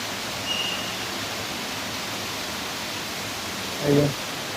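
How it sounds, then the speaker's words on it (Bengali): A waterfall pours down inside the bird enclosure at Al Ain Zoo, a steady, loud, broad rushing roar filling the whole stretch, with a couple of brief faint tonal chirps over it. "এই যে পুরো ঝর্ণাটা এখানে নামছে এই যে উপর থেকে"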